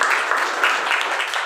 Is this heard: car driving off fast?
no